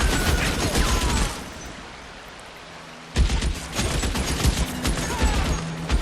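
Gunfire in the L.A. Noire video game comes as dense bursts of shots in two loud stretches, split by a brief lull of low ambient rumble.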